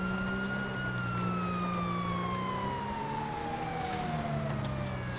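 A police siren from a car in GTA Online wails steadily with a slowly falling pitch, fairly close, over a low engine drone.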